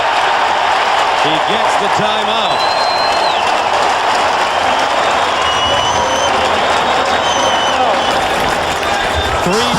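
Large football stadium crowd in Tennessee roaring and cheering steadily throughout an NFL game between the Pittsburgh Steelers and Tennessee Titans, a dense, continuous wall of sound with scattered whistles and shouts rising above it.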